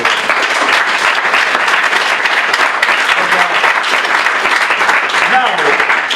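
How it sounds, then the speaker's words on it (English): Audience applause at a student competition prize ceremony, steady dense clapping from a crowd that holds for the full stretch, with faint voices mixed in underneath. "So big round of applause to all of you."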